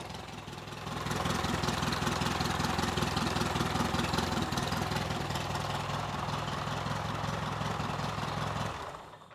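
A motorcycle engine idles steadily close by, a dense low rumble with fast even firing pulses that holds for about eight seconds and then cuts off abruptly, with no voices over it.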